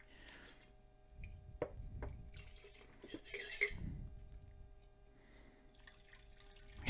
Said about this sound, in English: I better have a catch can down here to catch the gold as I pour this off as I rinse it